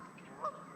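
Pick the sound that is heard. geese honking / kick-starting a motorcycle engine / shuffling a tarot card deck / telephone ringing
geese honking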